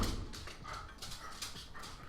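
A corgi and a big dog play together, giving soft whimpers and small yips at low volume over a busy, rustling background.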